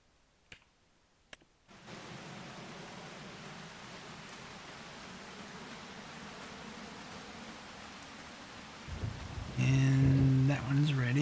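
Steady rain hisses in Farming Simulator 25 after a couple of faint clicks, a soft, even wash that continues for several seconds before louder tonal game sounds rise over it near the end.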